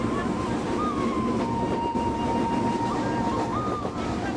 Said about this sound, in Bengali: দুর্দান্ত গতিতে ট্রেন ছুটেছে অবিরাম পথ চলা